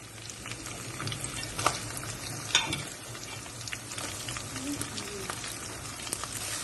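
Sliced onions and green chillies sizzle steadily in hot oil as spicy aloo gobi is cooked, with a constant crackling fry and occasional sharper clinks of stirring.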